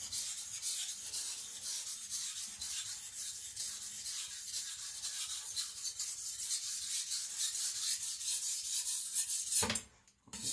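A Sakon Ryuga gyuto is sharpened on a Naniwa Professional whetstone, giving a steady close rasping scrape of steel on stone in repeated back-and-forth strokes that stops abruptly near the end, with no talking.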